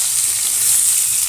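Potatoes fry in hot oil in a pan with whole garam masala tempering for a jackfruit curry, giving a steady close-up sizzle with a faint crackle and no talk.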